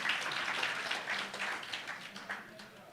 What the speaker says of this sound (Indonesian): Yang bangga tepuk tangan lebih kuat lagi buat Tuhan kita